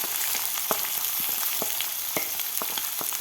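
Medium-cut sliced onion hits hot oil with bloomed cumin for a Nagpur-style Savaji dal kanda, giving a steady close sizzle dotted with sharp clicks and scrapes from stirring; no one speaks.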